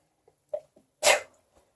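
A single sharp human sneeze, set off by dust from an old book, comes close and loud after a short intake of breath in a quiet room.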